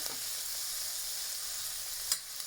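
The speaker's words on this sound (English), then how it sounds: "All we're going to do is we're going to add some butter." Butter melts into callaloo in a hot pan, producing a steady, even sizzling hiss, with one brief clink of a spoon near the end.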